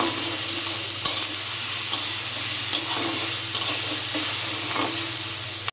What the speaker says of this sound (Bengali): এই যে দেখো পেঁয়াজটা কিন্তু ভাজা ভাজা হয়ে এসছে